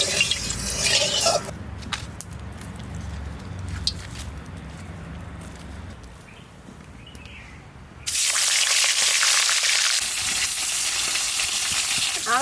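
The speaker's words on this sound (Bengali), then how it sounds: "কড়াইও গরম হয়ে গেছে কড়াই তেলটাকে দিয়ে দিচ্ছি" Hot oil sizzles and spits in a hot wok, with scattered drips and clatters, then bursts into a loud, sustained hiss that fills the last few seconds.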